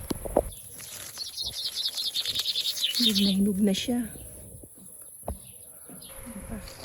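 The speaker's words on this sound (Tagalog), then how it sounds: "Ayan, oh, maririnig nyo naman yung mga ibon." Birds feeding in an apricot tree in a garden chirp in quick high twittering runs with a few lower calls, fairly close outdoors, while a person speaks briefly.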